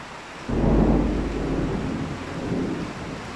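Heavy rain pours steadily, joined by a loud, deep rumble of thunder that swells about half a second in and rolls on under the downpour, after a long stretch of dry heat.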